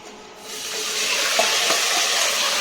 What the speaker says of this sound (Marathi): तेल चांगलं गरम झालं की त्यात आपण हे हळद मीठ लावलेलं मटण घालून घेणार आहोत